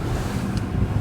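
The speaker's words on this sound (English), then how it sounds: "we have the wind right in front of us, a little from the starboard side, and some waves" Steady wind rushing over the microphone and waves washing against a sailboat under engine, heading into a headwind from slightly starboard; a dense, continuous roar with no voices.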